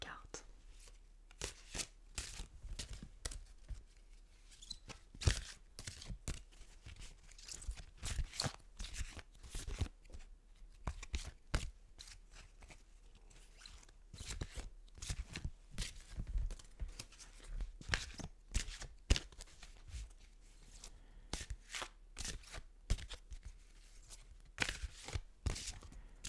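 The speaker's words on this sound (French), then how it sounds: "Bah attends, je vais battre les cartes." Tarot cards are shuffled close up in a steady run of crisp riffles and soft flicks that carries on for a long stretch, with quiet whispered speech running throughout.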